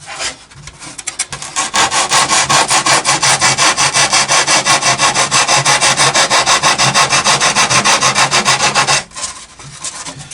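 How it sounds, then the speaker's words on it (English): A hand file smooths the cut edges of a wooden part, with a fast, even run of loud rasping strokes after a few tentative scrapes, stopping abruptly near the end, with no talking. "So I'll give that a little clean up, a file just to go around all the edges."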